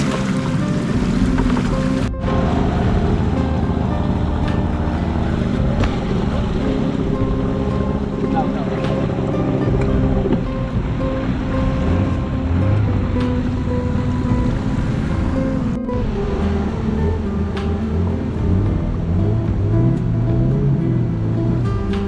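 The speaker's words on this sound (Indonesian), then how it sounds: "Tolak perahu guna kayu." A wooden boat pushed upstream with a wooden pole on the upper Sut River in the Baleh area: water sloshes and churns constantly around the hull, with gusty wind buffeting and people talking at times.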